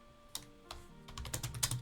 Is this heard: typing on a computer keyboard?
yes